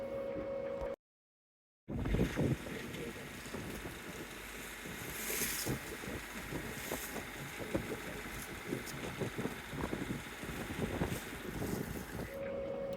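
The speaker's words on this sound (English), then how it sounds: "sails down, engine on, and we make our approach to Burnett Heads and the river" A sailboat's engine hums steadily under wind buffeting and rushing water while approaching the Burnett River at Burnett Heads, with a brief dropout near the start.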